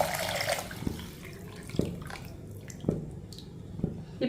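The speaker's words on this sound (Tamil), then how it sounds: "பீட்ரூட் கேரட்டு ஜூஸை தூக்கி அதில் ஊற்றிடுவோம்." Beetroot and carrot juice is poured into a cooking pot, a short close liquid pour with wet splashing and a few distinct plops and drips over a soft background hiss.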